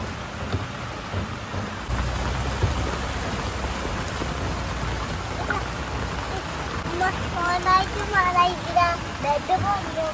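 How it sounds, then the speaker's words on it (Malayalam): Heavy rain pouring down outdoors, a dense continuous hiss and patter close by with a deep rumble beneath, and faint voices and birdlike chirps rising briefly near the end. "നല്ല മഴ തന്നെയാണ് ഇപ്പോൾ പെയ്തുകൊണ്ടിരിക്കുന്നത്"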